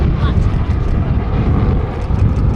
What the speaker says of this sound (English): this amazing formation. Anarchy 1, the Typhoon, with the Spitfire from the Battle of Britain Memorial Flight.